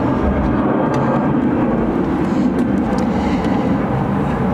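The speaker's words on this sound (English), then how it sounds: "I'll just wait for the plane noise to die down if you don't mind." Airplane passes overhead with a loud, broad continuous roar that stays steady throughout, with no talking.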